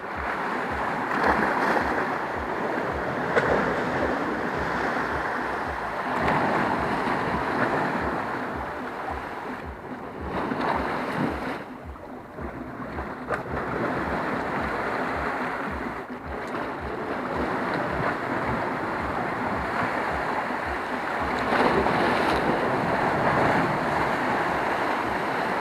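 Sea waves wash steadily against the rocky Chernovskie stones shore with gusting wind buffeting the microphone, a continuous loud roar rising and falling with each surge.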